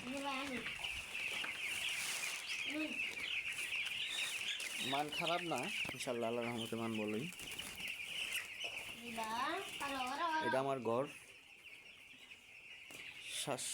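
Broiler chickens in a poultry shed cluck steadily throughout, a dense flock close by with a constant high-pitched background hum, while someone talks over them in bursts.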